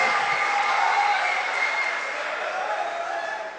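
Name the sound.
audience applause at a poetry recital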